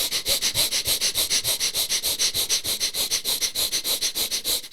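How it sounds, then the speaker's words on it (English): Rapid breath-of-fire breathing, a quick regular series of sharp nasal exhales, about five per second, loud and close with no talk. "If you want to activate, you know, your sympathetic, you can do the breath of fire."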